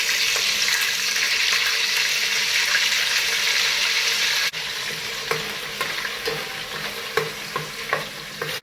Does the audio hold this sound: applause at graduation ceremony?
no